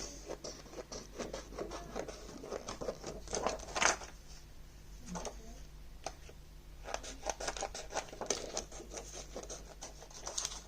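Scissors snip through paper for a handmade Christmas card in a series of quick, close cuts and rustles, with a brief pause midway before the cutting resumes.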